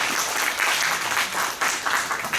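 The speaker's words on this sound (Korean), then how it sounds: "박수 한번 부탁합니다" Audience applause at a book-launch policy concert, close and lively clapping from a crowd with uneven rhythm, steady for the whole short stretch.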